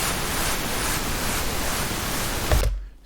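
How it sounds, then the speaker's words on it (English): Steady, loud broadband pink noise soloed in Bitwig music software, a dense even hiss that runs uninterrupted before cutting off sharply near the end. "Solo on the pink noise."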